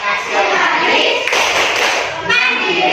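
A class of schoolchildren claps out the BPK clapping routine in a primary classroom, dense rhythmic hand claps running steadily throughout, loud and close, with children's voices mixed in.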